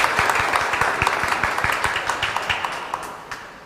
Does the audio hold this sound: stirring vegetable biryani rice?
no